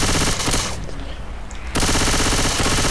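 Loud, rapid automatic gunfire from the Left 4 Dead 2 video game rattles in continuous bursts, breaks off briefly, then resumes just as dense and close.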